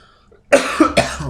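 A person coughs two or three times in a quick burst, loud and close, with a harsh throaty rasp, after a short quiet pause.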